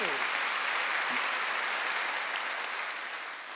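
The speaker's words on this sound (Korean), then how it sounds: "박수 하나 더 주세요" A church congregation at a Wednesday worship service applauds together, a dense, steady wash of clapping that fills the room and slowly tapers toward the end, with a brief voice at the start.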